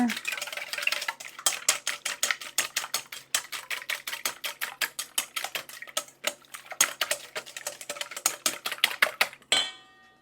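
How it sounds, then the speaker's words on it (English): Eggs are whisked in a bowl in a fast, steady rhythm of sharp metallic clinks, dozens of close, crisp taps that repeat for about ten seconds before stopping. "We're going to whisk those together."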